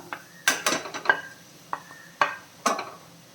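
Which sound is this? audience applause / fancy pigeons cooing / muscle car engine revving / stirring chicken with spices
stirring chicken with spices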